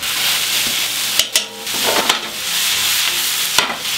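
Beef cheeks and onions for Flemish carbonnade land in a hot pot with a steady, close sizzle, broken by a few sharp clanks and scrapes of stirring.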